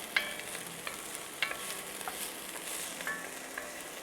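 Garlic sizzles and fries in a pan while risotto is being made, a soft steady crackle broken by a few stirring scrapes and clicks, close by and with no talking.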